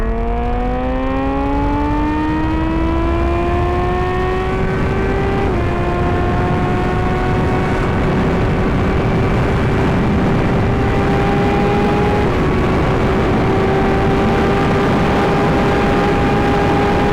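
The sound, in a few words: Suzuki GSX-R 750 motorcycle riding on the road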